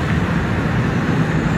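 Road traffic on the Claudia Lars highway, El Salvador, heard as a constant close rumble and hiss of vehicles flowing past, loud and unbroken with no speech.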